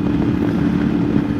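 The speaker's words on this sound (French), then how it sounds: "Le moteur est vraiment sympa, il accélère, il est vif" CFMoto 450MT motorcycle engine pulling under acceleration, a steady low throbbing rumble heard up close from the rider's position, brief and alone.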